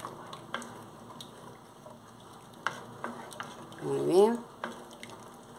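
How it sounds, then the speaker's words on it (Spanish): A spoon scrapes and taps around a pot of chocolate oat atole thickened with cornstarch, soft irregular knocks with a bubbling swirl near the end, while a person speaks briefly. "Hay que revolver bien, bien, bien para que no se nos quede, no se nos vaya a pegar aquí en la olla"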